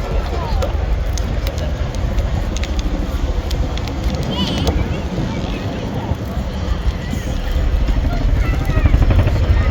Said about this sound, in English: The Chinook is now expeditiously brought to the stop.